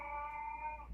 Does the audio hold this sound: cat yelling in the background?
yes